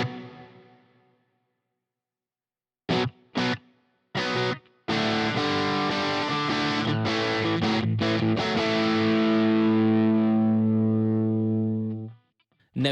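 An electric guitar runs through an HX Stomp on a Park 75 amp model with reverb: a few short choppy strums, then a sustained distorted chord ringing out and fading on a reverb tail.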